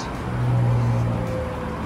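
The powered boot lid of a 2016 Mercedes GLC220d AMG Line Premium closes with a steady low electric motor hum that swells for under a second and then eases off, heard nearby with no talking.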